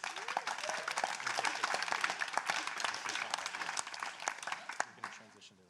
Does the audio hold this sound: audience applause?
yes